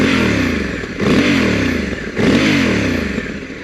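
Engine of a 2022 Honda Africa Twin DCT adventure motorcycle, loud and close, revving in repeated surges with falling then rising pitch and a rough clattering throb, no talk.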